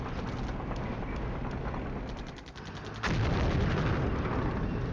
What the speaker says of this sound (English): And enemy artillery fire, of course.